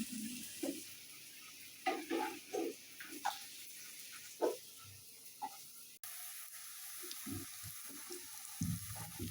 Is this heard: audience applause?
no